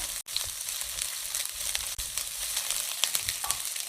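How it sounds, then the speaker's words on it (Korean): Meat stir-fried in a pan with onion, garlic, green onion and chili, a continuous close sizzle with brief clacks of the utensil against the pan and no talking. "여기다가 이제 고기를 볶을 거예요."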